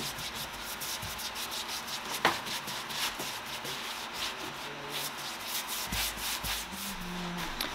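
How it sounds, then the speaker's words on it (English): A cloth rubs steadily back and forth, wiping wax off an upcycled wooden table top, a close, even scrubbing with one light knock and no voices. "And then I let that sit for a little bit and then I wipe it all back."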